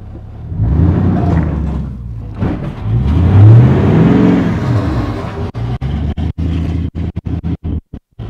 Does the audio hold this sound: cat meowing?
no